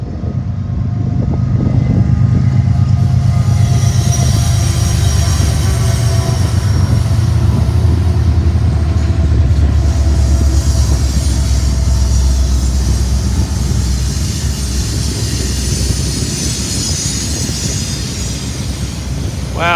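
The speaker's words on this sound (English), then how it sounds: "Here we got another Transcon train coming." A BNSF Transcon freight train with roughly nine or ten locomotive units passing on the tracks, a loud sustained rumble and rolling clatter with engine drone that fills the whole stretch.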